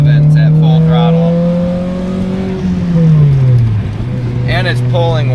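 A turbocharged car accelerates hard at full throttle, its engine note climbing loudly and steadily before a brief dip at a shift and then rising again, with tire and road noise underneath.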